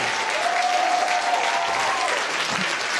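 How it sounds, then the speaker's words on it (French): An audience at a show in a community arts centre applauds flamenco performers, a dense, even wash of clapping that holds steady for the whole stretch, with a faint voice or whistle rising briefly. "Je voudrais que vous applaudissiez le flamenco, s'il vous plaît, avec Rémi."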